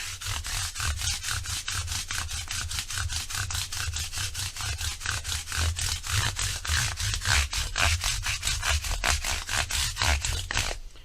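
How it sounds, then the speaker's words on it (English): A sanding block with 180 grit sandpaper rubbed up and down the frets of a Gibson Les Paul Studio guitar neck, a rapid steady rhythm of close, rasping strokes with no talking. "I'm going to take my block and I'm just going to run it up and down these frets like this."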